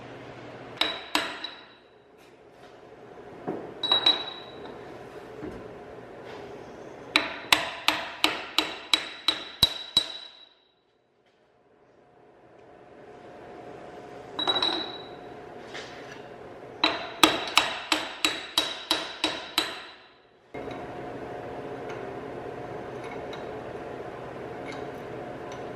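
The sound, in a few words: hammer tapping a part into place on a 4th gen Cummins truck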